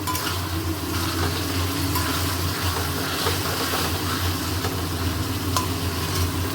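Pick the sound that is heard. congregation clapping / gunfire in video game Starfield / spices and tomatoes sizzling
spices and tomatoes sizzling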